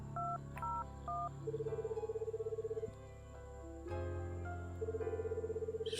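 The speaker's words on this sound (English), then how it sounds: "I called Jacob's room." Touch-tone telephone dialing in a video game: a few quick beeping keypad tones, then a steady pulsing ring tone over soft background music, repeating after a brief pause.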